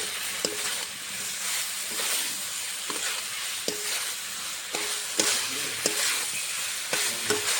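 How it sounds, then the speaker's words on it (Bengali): Spice paste sautéing with potato and raw banana sizzles steadily in a pan, broken by regular knocks and scrapes of a spatula stirring, close and moderately loud. "মশলাটা আমি কষিয়ে নিয়েছি, কাঁচা কলা আলুটা দিয়েও ভালো করে কষিয়ে নেব আলু কাঁচা কলার সঙ্গে।"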